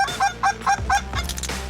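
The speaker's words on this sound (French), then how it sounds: "On y retrouve quantité de volatiles. Des outardes, des canards," Canada geese honk in a rapid series of four or five loud, close calls, followed by softer rustling, in a wetland during a dabbling duck hunt in Québec.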